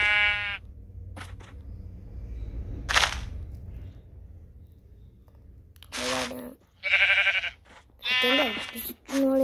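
Sheep bleat loudly and close in several wavering calls, mostly in the second half, with quiet stretches and a few sharp knocks between them.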